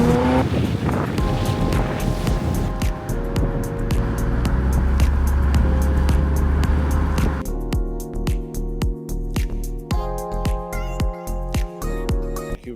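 A Ferrari engine revving hard through gear shifts, rising and dropping in pitch with sharp breaks between gears, loud and close, settling into a choppier, pulsing idle-like burble toward the end.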